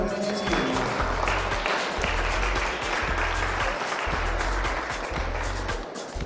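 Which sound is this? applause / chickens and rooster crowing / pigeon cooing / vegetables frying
applause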